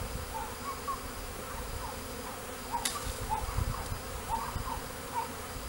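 A March honey bee swarm hums in a steady, soft buzzing drone, with individual bees passing close and fading now and then over the constant background hum outdoors.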